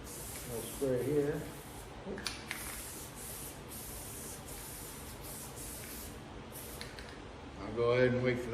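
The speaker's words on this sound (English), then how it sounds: "Little spray here." A spray can sprays in a few short hissing bursts and one longer steady spray while work is done on a rear package tray for a 1964 Valiant, with a voice heard at the start and end.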